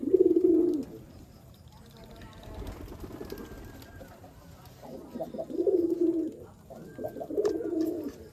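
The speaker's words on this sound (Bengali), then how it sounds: "এই নর কবুতরটা নিউ এডাল, মাদি কবুতর দেখলেই ডাকা ডাকি শুরু।" A newly adult male racing pigeon coos repeatedly at a female in a loft, with close, deep rolling bursts that come and go across the stretch and faint background sounds between them.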